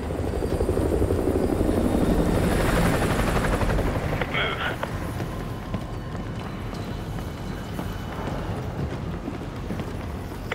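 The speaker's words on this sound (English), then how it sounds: "Enemy helo patrolling the perimeter." An enemy helicopter in the video game Call of Duty: Modern Warfare 2 drones loudly with a dense rotor roar that eases slightly over time, with game voices talking over it.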